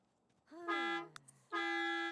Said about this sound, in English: The honk of the school bus then also reminds us that Fabien is not a young adult just yet.